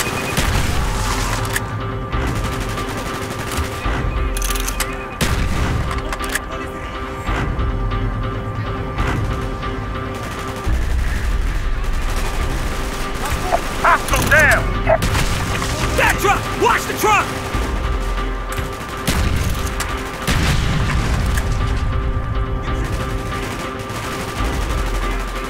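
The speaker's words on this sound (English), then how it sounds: "Gunfire's drawing attention." Sustained bursts of gunfire crackle through a busy Call of Duty: Black Ops campaign soundscape, with explosions and voices mixed in over continuous loud action.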